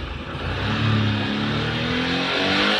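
A 2008 Daihatsu Xenia's engine revs in a steady, loud drone that climbs in pitch, heard up close and alone with no voices.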